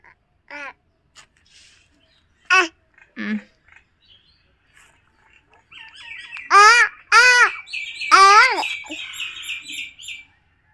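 Scattered bird chirps and short calls come in bursts, growing into a busier, louder cluster of squawking calls near the end, close by.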